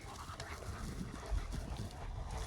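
Puppies panting and softly whimpering at close range, a steady breathy rhythm with faint scuffling throughout.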